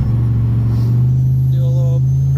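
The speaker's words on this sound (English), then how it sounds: "So we'll drop this thing in second gear," A 1975 Chevrolet Caprice Landau race car pulling hard in second gear, its engine a loud steady drone that holds close and rises slightly in pitch over a couple of seconds.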